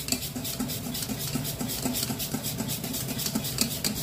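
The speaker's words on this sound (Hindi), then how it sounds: "और इसे अच्छी तरह से मिक्स कर लेते हैं एक ही डायरेक्शन में।" Khaman dhokla batter with baking soda is stirred in one direction in a bowl, giving a continuous wet, rhythmic scraping and swishing that stays steady and fairly quiet throughout.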